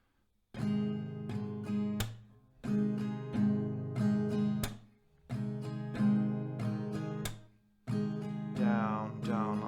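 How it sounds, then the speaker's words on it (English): An acoustic guitar strums a steady down-down-up pattern at a slowed tempo, chords ringing in repeated bursts with brief gaps and a sharp percussive slap between phrases, played alone and close. "A couple of rounds of that strumming, a little bit slower, will sound like this."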